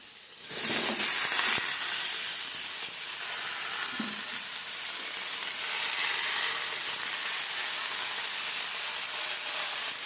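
Leafy greens (shak) sizzle and hiss loudly as they hit a hot pan after the fried eggplant, a steady bright frying crackle with a stronger burst at the start and another swell midway.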